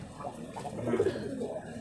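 Ghonobaji pigeons softly coo in a loft on a Rajshahi pigeon farm, low murmuring calls overlapping at a distance, fairly faint, with no speech.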